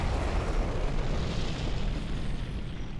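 Artillery fire in a real-time strategy match, a dense continuous rumble of booming blasts and explosions layered together at loud volume, with no speech.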